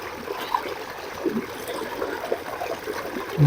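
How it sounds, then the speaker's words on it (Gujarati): Water running steadily along a farm irrigation channel outdoors, a soft continuous trickle and gurgle heard alone, with a brief louder bump at the end. "અહીં સરસ મજાનું પાણી ચાલુ છે."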